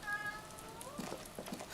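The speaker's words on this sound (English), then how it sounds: "That was a yawn and complaint meow." A cat in the video game Disco Elysium lets out a quiet, drawn-out yawning meow with a complaining, rising tone, alone against a soft ambient background.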